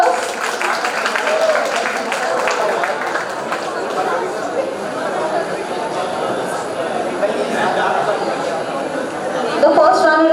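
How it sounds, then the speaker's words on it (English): A college IT fest audience applauds the competition winners, a dense wash of clapping blended with loud crowd chatter and cheering voices throughout. "Let's congratulate the winners with a huge round of applause."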